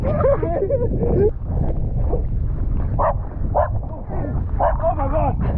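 A dog barks and yips several times in quick bursts outdoors on Milos, under loud, excited voices and wind noise from a close camera.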